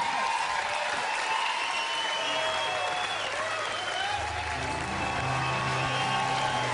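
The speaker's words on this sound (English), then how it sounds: "Another round of applause" Sustained audience applause and some cheering follow an acoustic concert performance, with a broad even wash of clapping from the crowd. A low held tone hums underneath.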